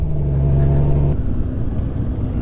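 A 2021 Honda Goldwing DCT motorcycle ridden at slow speed gives off a steady low engine rumble with a faint tonal hum that fades after about a second, up close and without talk.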